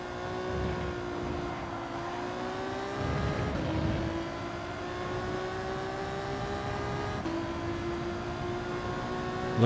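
Race cars lapping in Gran Turismo 7, a steady layered engine drone with several overlapping motors rising and falling in pitch through gear changes, loud and continuous with no talk.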